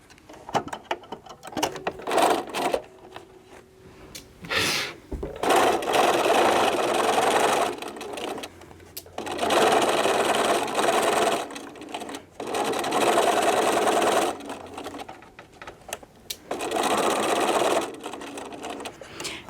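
A sewing machine stitches pieces of fabric for a curved basket in several bursts of rapid mechanical whirring and clatter, separated by short pauses, close and fairly loud, with no talking.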